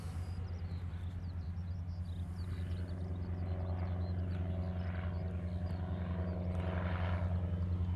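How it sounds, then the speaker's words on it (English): A FedEx trijet cargo plane flies near Honolulu airport with a steady, heavy low-pitched engine drone and rumble. The sound holds constant and slowly grows louder, with faint chirping in the background. "This is that FedEx triple that I could not see on the downwind a minute ago."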